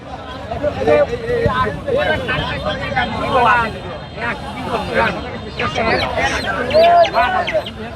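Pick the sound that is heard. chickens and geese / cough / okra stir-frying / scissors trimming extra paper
chickens and geese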